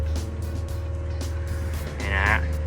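A Komatsu WA100-6 wheel loader with an extra-long arm runs at a steady engine drone, and a rising hydraulic whine swells near the end as the arm lifts. Someone talks over it.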